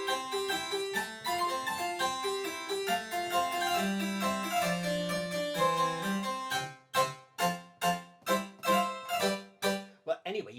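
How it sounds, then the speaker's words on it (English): Digital piano set to a harpsichord voice plays a plucked, bright passage of quick notes at even volume, then a run of sharply detached chords near the end, close and without talk. "Here is the sound of a harpsichord."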